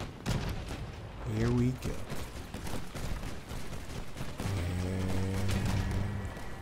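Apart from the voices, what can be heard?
Mandrake weapons firing in the video game Crossout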